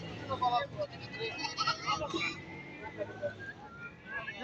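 Sheep bleat in a crowded livestock market in Barda, Azerbaijan, amid a general hubbub of people talking nearby.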